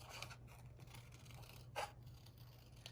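Scissors snip through a paper card design: soft, close scraping and cutting strokes at a quiet level, with one brief louder crisp snip midway and a faint steady hum beneath.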